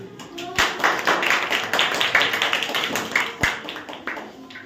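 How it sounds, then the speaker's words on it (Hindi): A small group of students in a classroom claps in quick, uneven rhythm for several seconds, close and lively, with a voice faintly underneath. "बहुत बढ़िया, तालियां।"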